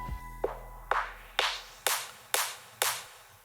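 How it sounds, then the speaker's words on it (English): A dance-track build-up clap sample strikes six times at an even pace, each hit growing brighter and fuller as a filter sweeps open, with short decaying tails and no other sounds. "This part gets introduced by the clap with the simple filter automation."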